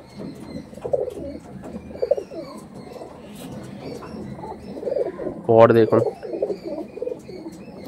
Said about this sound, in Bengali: পিওর কালো দানা পায়রা, খুব সুন্দর রিং আছে